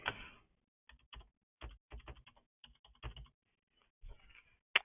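Keys on a computer keyboard tapped in short, irregular bursts while a phone number is entered, with crisp close clicks separated by brief pauses and no talking.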